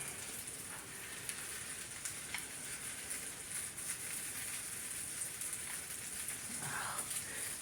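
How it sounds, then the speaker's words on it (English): Steady, crackling sizzle of butter in a hot pan, continuous and close, a dense hiss with faint pops throughout. "Just listening to the butter sizzle on the bottom of the pan."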